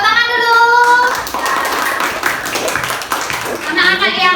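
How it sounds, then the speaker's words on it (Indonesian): Children in a classroom clap together after a group presentation, a burst of mixed hand claps alongside children's voices and chatter, fairly close and loud. "Tepuk tangan dulu."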